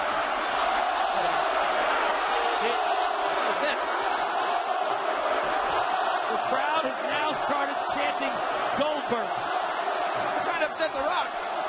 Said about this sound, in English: The Rock loves to hear his name chanted.